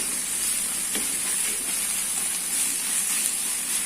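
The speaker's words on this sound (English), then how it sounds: "Now I will cook it for 1 to 2 minutes till the raw smell of garlic goes." Garlic fries in a pan with a steady, bright sizzle and hiss that holds at even loudness throughout, with no voices.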